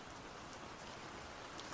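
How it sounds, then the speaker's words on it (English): Steady rain falls as a soft, even, continuous hiss of drops on a surface, faint and unbroken with no voices. "It started to rain"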